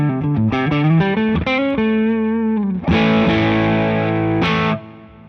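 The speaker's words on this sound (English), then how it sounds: "And this is the GT-1000 Clean Boost." Electric guitar played through a Boss GT-1000 multi-effects unit's Clean Boost setting: a run of bright picked notes, then a loud, full sustained chord that rings and cuts off near the end, with no voice.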